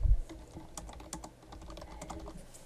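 Rapid, light keystrokes on a computer keyboard entering an artist's name, close and moderately quiet, an uneven patter of clicks with no talk.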